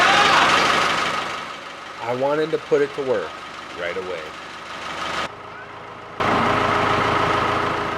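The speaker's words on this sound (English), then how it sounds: "This tractor hasn't ran in months. I was happy that it fired right up." A farm tractor, back in use after months sitting unused, starts and runs at a steady idle, loud and broadband, while someone talks over it; the engine drops out briefly before resuming.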